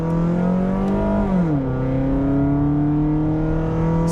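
Engine of a modded 2007 Toyota Camry LE heard from inside the cabin, a loud steady drone whose pitch drops partway through and then holds level, close and continuous.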